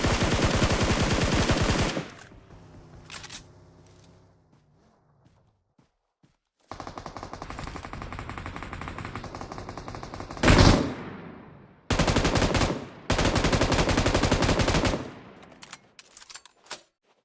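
PUBG Mobile gunfire in a competitive match: loud bursts of automatic fire and single shots, separated by quiet gaps, with one sharp louder blast near the middle.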